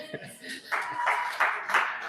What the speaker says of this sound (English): let's clap for the men